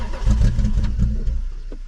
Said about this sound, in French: J'ai viré, c'est une ligne full tube de devant à derrière. Pas de silencieux.